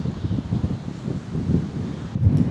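Wind buffeting the microphone on a coastal headland, low gusty rumbling that rises and falls continuously with no voices.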